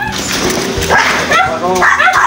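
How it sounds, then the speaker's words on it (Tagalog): A dog barks and yips a few times, close by, over loud voices talking and outdoor background noise. "Yung aso."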